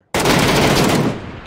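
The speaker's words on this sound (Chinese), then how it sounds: "我看他直接开枪了，兄弟。" A rapid, loud burst of automatic gunfire from a shooter video game starts abruptly and hammers on for about a second before trailing off. It is close, dense and dominant, with no voices.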